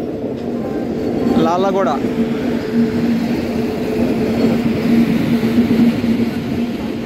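A WAP-7 electric locomotive hauling the Kakinada Port–Bhavnagar superfast express rolls into platform one, a steady rumble of wheels and coaches with a brief horn-like tonal burst near the start, while a voice speaks over it.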